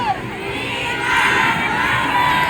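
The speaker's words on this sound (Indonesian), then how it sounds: "bagaimana kalau kita teriakan We Are Worker?" Rally crowd at an International Women's Day gathering of workers in Hong Kong shouting a slogan together, a loud, sustained wash of many voices that swells and holds steady.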